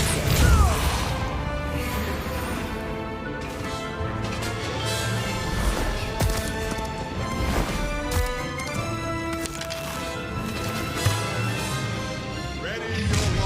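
A Depulso spell in Hogwarts Legacy, cast during a wand duel, lands as a sharp crashing impact within a dense layer of game music and battle effects, with brief whooshes and thuds throughout.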